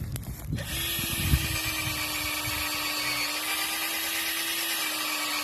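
A power drill bores into a small cherry tree trunk for grafting outdoors, a brief clattering start settling into a steady, continuous whine that runs unbroken to the end.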